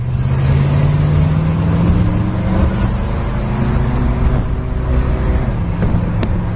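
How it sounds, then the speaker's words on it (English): A 1970 Pontiac Catalina convertible with a single exhaust drones steadily while driving, a loud close engine rumble with a slow rising pitch and road noise throughout. "This Catalina has single exhaust. Sounds good."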